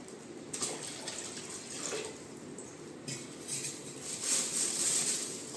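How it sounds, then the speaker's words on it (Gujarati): Water is poured into two containers, producing a quiet, uneven splashing and trickling with occasional faint clinks of vessels. "હવે આપણે બે ચબલામાં પાણી ભરી લીધું છે"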